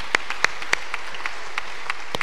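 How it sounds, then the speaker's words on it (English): Applause from a basketball coaching clinic audience, a few sharp claps standing out at first and then thinning to scattered, fainter claps with no talking. "All right, let's give them a big hand,"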